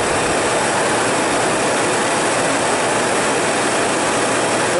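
An old Miele White Star S314 vacuum cleaner from 2003 runs steadily with a loud, continuous broadband roar and rattling hiss, unchanging throughout.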